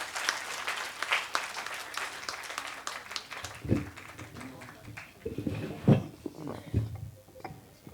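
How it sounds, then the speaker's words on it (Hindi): An audience at a kavi sammelan claps in a busy, moderate burst of applause heard from within the hall, with voices talking over it and a few louder thumps as the clapping fades. "एक बार सब मिलकर तालियां बजाएं"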